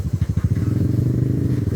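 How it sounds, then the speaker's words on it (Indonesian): A becak motor, a motorcycle rickshaw that carries pilgrims, runs close by with a loud, rapidly pulsing engine putter that holds steady throughout. "Nah, ini ada becak motor biar yang mengangkut para peziarah"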